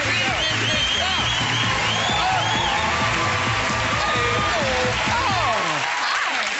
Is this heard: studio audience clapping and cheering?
yes